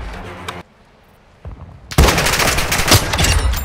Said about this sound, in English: My guy's sitting fucking shooting through walls.